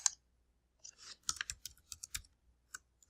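Sparse computer mouse clicks in a quiet room, a single sharp click followed by a quick irregular run of light taps and clicks, close and crisp.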